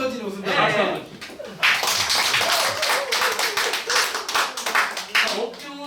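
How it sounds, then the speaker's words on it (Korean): An audience at a Korean lecture claps, a dense burst of clapping with laughter and voices mixed in, continuing for several seconds. "박수 한번 주세요."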